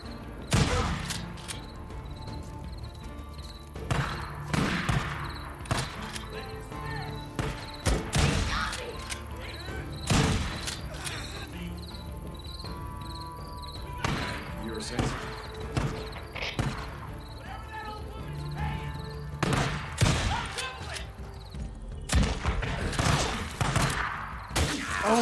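A small gun firing in the Days Gone video game amid a busy combat mix, with repeated sharp shots, thuds and crashes through a constant loud din.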